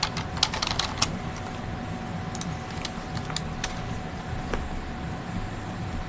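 A keyboard or typewriter is typed on in scattered bursts of sharp clicks, fairly faint over a steady background hum, with no voices.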